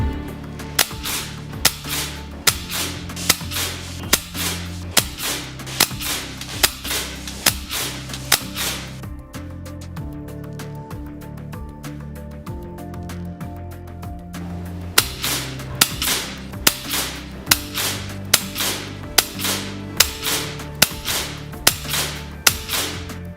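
An FX Impact X MKII Compact .30 caliber PCP air rifle fires shot after shot at an outdoor range, sharp cracks coming in a steady rhythm with a short pause midway, each report clear and close.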